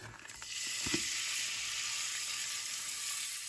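Minced meat hitting hot olive oil in a pan, bursting into a loud, steady sizzle after a brief clatter at the start, then frying evenly and close without pause.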